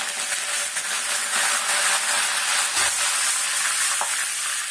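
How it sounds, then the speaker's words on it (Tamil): Fennel seeds crackle and sizzle in hot oil for a crab masala, a steady close frying hiss with occasional stirring scrapes and no talk. "சோம்பு நல்லா பொரியட்டும்"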